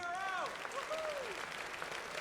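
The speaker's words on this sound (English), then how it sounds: "everybody else is cheering" A crowd claps and cheers at a stage performance in the Red Dead Redemption 2 video game, a dense steady applause under a speaking voice and a few rising and falling vocal tones.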